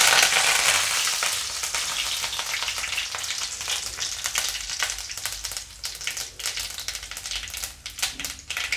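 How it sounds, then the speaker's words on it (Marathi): Cumin, mustard seeds and curry leaves crackle and sizzle in hot oil in a pan, a loud dense spatter at first that settles into steady popping and hissing with scattered sharp crackles, no voices. "आता हे तेल आपलं गरम झालं आहे, यामध्ये आपण थोडे जिरे टाकूया, थोडी मोहरी टाकूया, थोडी कढीपत्त्याची पाने टाकू।"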